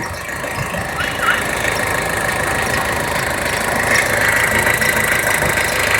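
A car engine idles steadily with a low, continuous rumbling hum and faint mechanical rattle, loud and close throughout.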